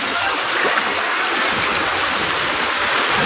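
Floodwater after heavy rain rushes past like a swollen river, a dense, steady roar of turbulent water that fills the whole moment without pause, close and loud, with no voices.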